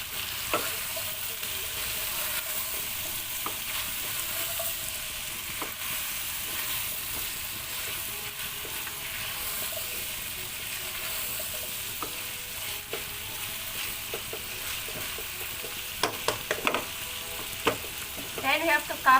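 String beans with pork and butternut squash stir-fry in a pan with a steady, close sizzle, broken by occasional clicks and spatula scrapes that grow busier toward the end; no one speaks.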